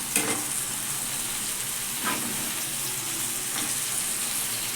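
Cleaned prawns frying in a hot pan, a steady dense sizzle with a few louder crackling pops, close and continuous throughout.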